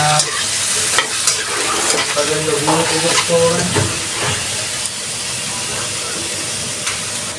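Chicken feet fry in a pan with a loud, crackling sizzle, broken by repeated scraping and clattering stirs of a utensil against the metal.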